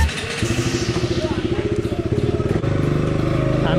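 A new KTM Duke 200 BS6 motorcycle engine running close by, a steady rhythmic pulsing thrum that shifts to a slightly higher, denser note partway through.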